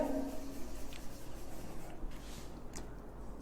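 Marker scraping across a whiteboard as an enzyme name is written out, a soft continuous rubbing with short pen strokes, close and fairly quiet, with no talking over it.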